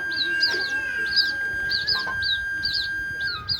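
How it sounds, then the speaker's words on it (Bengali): Pet birds chirp in repeated short, bright bursts nearby, with a steady high tone and breezy background noise running underneath. "দেখেন পাখিগুলো"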